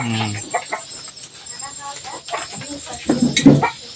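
Backyard chickens kept at a small home farm cluck in short bursts under steady conversation between people, with a louder cluster near the end.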